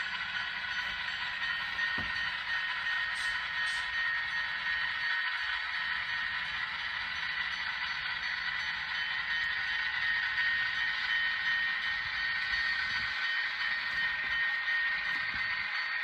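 A locomotive rolls out of a rail yard in a train simulator, giving a steady, even rumble and hiss with faint mechanical clatter that continues unchanged throughout.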